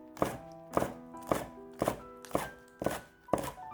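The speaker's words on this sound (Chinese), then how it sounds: "下面准备几颗小葱，切成葱花" Knife chopping green onions on a cutting board, seven evenly spaced sharp chops close up with quiet gaps between, no talk.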